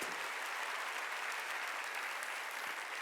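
A church congregation at a Wednesday worship service claps steadily, dense applause that sustains throughout, fairly distant and even.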